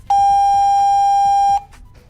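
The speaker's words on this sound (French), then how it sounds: "Le clavier confirme par un bip long." A Diagral wireless alarm keypad gives a single long, pure confirmation beep, loud and steady for about a second and a half, then stops.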